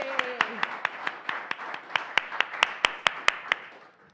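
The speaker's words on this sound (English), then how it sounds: "Round of applause for them." A live Father's Day show audience claps in a sparse, evenly spaced rhythm of about sixteen sharp claps, with a brief voice at the very start.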